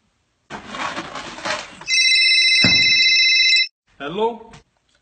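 A voice speaks briefly, then a phone placed to call home gives one sustained electronic ring lasting about two seconds before another short spoken phrase follows.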